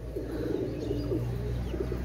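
Pigeons coo close by, their soft, repeated throaty calls running steadily through the whole stretch over a constant low background hum, with no talking.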